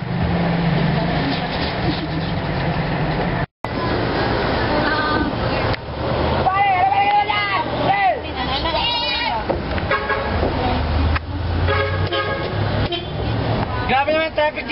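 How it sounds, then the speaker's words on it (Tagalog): Busy street traffic with repeated car horns honking in short toots and longer blasts over a rumbling engine din, while people talk and shout nearby. "Grabe naman traffic dito! Ang ingay-ingay nyo naman."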